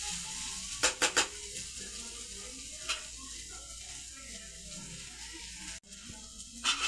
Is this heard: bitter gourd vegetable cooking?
yes